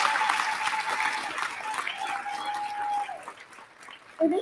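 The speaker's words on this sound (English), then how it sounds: "Let's give them a big round of applause for bringing us together today." Conference audience applauding in a large hall, a dense, even wash of clapping at moderate loudness that gradually thins out, with a faint tonal hum running underneath.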